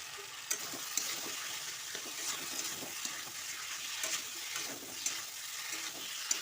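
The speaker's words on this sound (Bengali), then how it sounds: "এবার আমি এর মধ্যে আলুটা দিয়ে কষিয়ে নিচ্ছি" Boiled potatoes frying and being stirred in spice masala in a pan, a soft continuous sizzle punctuated by sharp spoon scrapes and clicks at irregular intervals.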